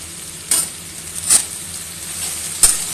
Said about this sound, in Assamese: আৰু এইদৰে মই এই কচু বাওখিনি অলপ ধুনীয়াকৈ ভাজি ল'ম।